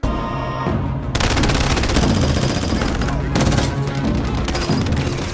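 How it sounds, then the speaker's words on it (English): Loud, sustained machine gun fire from the opening scene of Ghost in the Shell, in dense, continuous bursts that barely pause throughout. "Machine gun guys, shoot some more."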